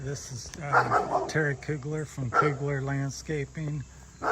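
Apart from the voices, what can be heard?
dog barking in background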